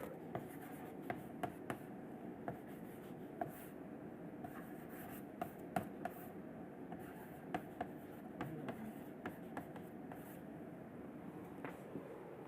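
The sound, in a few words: writing on a board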